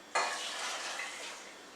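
Lentils in a pot on the stove making a steady broadband hiss and bubbling wash that starts abruptly and holds level for under two seconds, no voices.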